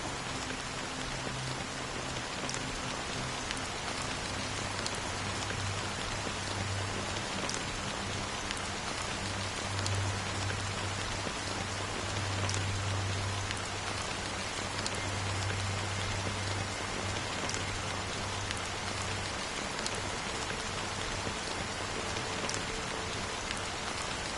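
Steady, even rain falls without a break in the Honkai Star Rail video game, a dense hiss that fills the scene, with a faint low hum underneath and no voices.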